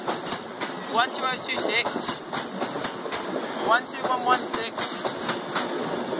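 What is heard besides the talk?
trains passing Thorpe Junction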